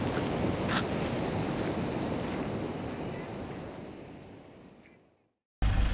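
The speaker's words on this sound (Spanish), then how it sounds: "nos vamos a dormir con ruido de río crecido" A flooded river rushes in a steady broadband roar near the bank at La Higuera, Córdoba, loud and unbroken before fading out, then cutting back in abruptly.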